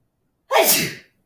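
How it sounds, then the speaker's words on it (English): A single close, sharp sneeze bursts out abruptly and fades within about half a second, with silence on either side. "Sorry, had to sneeze."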